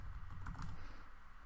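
Keystrokes on a computer keyboard as a command is typed, a short burst of close, soft clicks over a low background hum.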